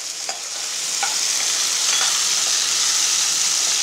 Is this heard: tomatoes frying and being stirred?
yes